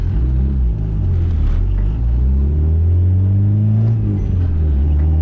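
A Honda engine running an E85 tune revs hard and climbs into VTEC with a loud, continuous rumbling note that rises steadily in pitch across the clip.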